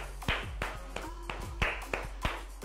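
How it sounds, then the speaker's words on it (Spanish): Hand claps land at a steady pace during a jogging exercise drill in a physical education class, sharp and fairly close, about eight over a few seconds, with light footfalls and a little background noise. "Troto y aplaudo."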